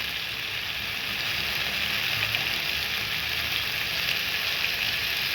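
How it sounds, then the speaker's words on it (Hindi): Tomato masala for a matar kulcha pizza cooks in a pan over a low-medium flame, giving a steady, even sizzling hiss that holds unbroken throughout. "इस टमाटर को हम पकाएंगे इसी तरीके से, लो मीडियम फ्लेम पे बीच में चलाते हुए"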